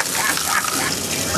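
Waste water gushes out aboard a submarine in a loud, steady, hissing rush, close by and continuous, with no talking.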